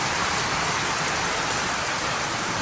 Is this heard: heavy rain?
yes